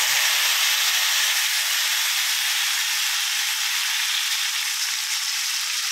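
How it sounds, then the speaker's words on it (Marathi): Cumin seeds and chutney hit hot oil in a pan, producing a loud, continuous hissing sizzle that holds evenly for several seconds, close up and without any talking. "तेल गरम झालेले आहे तर त्यामध्ये आपण अर्धा चमचा जिरे घालून घेऊयात। जी चटणी केली होती तर ती घालून घेऊयात।"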